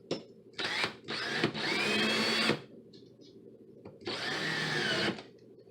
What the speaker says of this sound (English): I'm going to screw it. So here I'm using a drywall 1 1/4 screw.